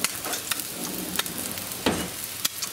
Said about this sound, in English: it's starting to get a pretty good little browning sear on there